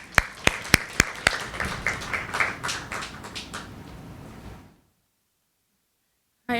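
A crowd at a free poetry reading in Accra welcomes the next reader with applause: a few sharp, loud claps lead into a brief swell of clapping that fades to silence after about five seconds.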